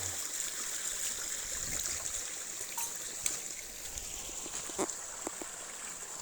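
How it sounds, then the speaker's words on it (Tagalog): Steady broadband rushing of flowing water, like a stream, continuous throughout with a few faint knocks and clicks near the end. "ang tubig."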